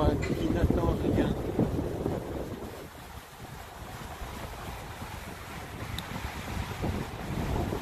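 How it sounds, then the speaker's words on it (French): Strong wind buffets the microphone outdoors, a loud roaring gusty rush that surges at the start, eases midway and builds again, with a voice speaking softly beneath it. "Wow, quel vent!"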